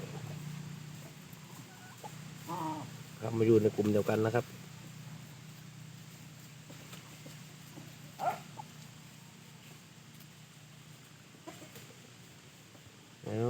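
Young Pa Koi chickens, about seven to eight months old, and a rooster cluck in a couple of short nearby bursts, while someone talks calmly over a quiet farmyard background.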